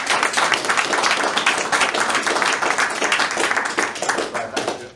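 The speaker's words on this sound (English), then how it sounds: "Can we give Stuart a round of applause?" Clapping from a modest audience at a talk on state over-reach into family life, with individual claps distinct and close, loud and lively, thinning a little toward the end, without speech.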